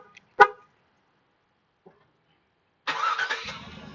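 A car's remote start switches on: a sharp horn chirp, a faint click, then the engine catching and settling into a quiet idle nearby, with no voices.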